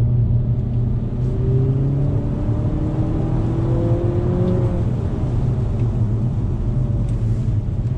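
A 2020 Nissan Altima VC-Turbo engine drones steadily with rising tones that climb and drop as paddle-shifted gears change, a continuous close mechanical hum throughout.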